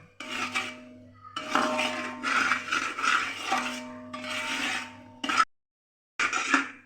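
A spoon scrapes and stirs thick jaggery syrup in a metal pan while ladoo are made, a steady rasping rub that pauses briefly near the end. There is no talking.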